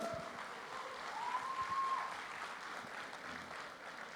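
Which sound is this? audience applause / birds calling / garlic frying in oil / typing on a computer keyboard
audience applause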